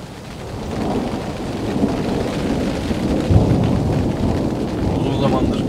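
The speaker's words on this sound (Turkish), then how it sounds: "Şimdi gök gürültüsü." Thunder rumbling through a snowstorm with rain at a winter tent camp with a wood stove, a deep rolling roar that builds and lingers over steady rainfall, with a voice speaking faintly.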